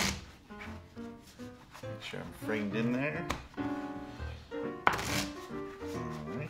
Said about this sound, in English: We're gonna shuffle up the cards a little bit here.